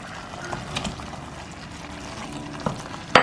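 Marinated chicken pieces fry in a pan for a curry-leaf chicken dish, giving a low, steady sizzle close by, with a few soft stirring knocks and a sharper clatter at the end.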